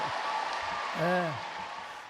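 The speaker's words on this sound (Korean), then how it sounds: "저 함성의 소리를 들어보십시오" A church congregation shouting and cheering together, a sustained broad roar of many voices with one voice briefly rising and falling above the crowd midway.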